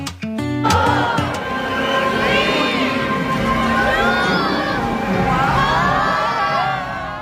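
A large crowd cheers and whoops at the Bethlehem Christmas tree lighting, a steady roar of voices with children shouting and rising excited calls, sustained and fairly loud throughout.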